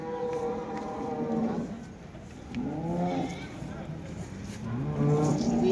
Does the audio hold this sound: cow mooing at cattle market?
yes